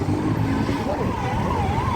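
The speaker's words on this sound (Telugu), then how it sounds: "ఏవో యాక్సిడెంట్ అయిందా ఏంది యాక్సిడెంట్ అంబులెన్స్ అంబులెన్స్" An ambulance siren wails in an up-and-down pattern through dense night traffic on a Bangalore road, heard from a motorbike over a steady rumble of engines.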